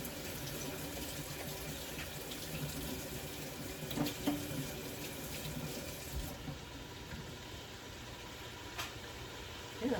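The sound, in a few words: rinsing food under running tap water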